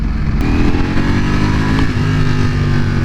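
A 2020 Ducati Panigale V4 R roars loudly while being ridden, a steady high-revving engine drone with slight pitch shifts, heard close from the rider's position with no talk.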